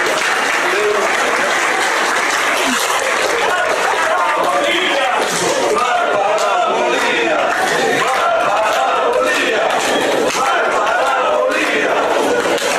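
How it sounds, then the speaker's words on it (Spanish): Loud, sustained applause from a large crowd at a political talk fills the whole stretch, dense and continuous, with cheering mixed in. "Por el aplauso para nuestro compañero."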